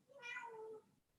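A cat gives a single clear, drawn-out meow, close and fairly quiet, with near silence around it and no talk.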